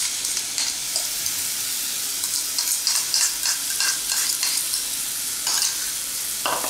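Roasted semolina in ghee being stirred with mashed ripe banana over a low flame, a steady close sizzle and frying hiss broken by repeated scraping stir strokes, with no voices.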